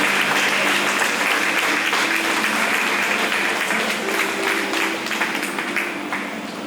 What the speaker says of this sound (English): feel free to applaud for them